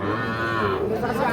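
Cattle mooing at a busy Ambari haat livestock market where small bulls and heifer calves are sold, a single long, loud low bellow that carries through the whole moment over a dense background of crowd noise.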